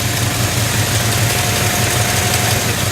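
A 1970 Dodge Challenger convertible engine idles steadily with a low rumble and a faint ticking, puffing hiss like a small exhaust leak, close and continuous.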